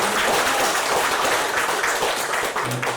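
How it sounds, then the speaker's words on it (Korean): A church congregation gathered for an outdoor park worship service breaks into sustained applause, a dense, steady wash of many hands clapping close by, with no talk over it. "우리 박수로 예수님께"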